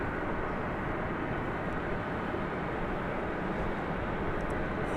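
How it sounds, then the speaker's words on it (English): A Qantas airliner at DFW Airport at night gives a loud, steady broadband jet roar that holds level for the whole stretch, with no voices. "And there's that Qantas flight"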